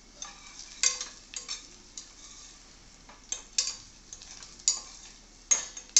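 Onions frying in a pan as they are stirred: light, intermittent scrapes and taps at uneven intervals over a faint sizzle, close and fairly quiet, with no voices.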